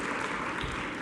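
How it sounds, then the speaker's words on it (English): A conference audience at a tourism event breaks into applause, a soft continuous patter of many hands heard from a distance. "We have to actually clap for that."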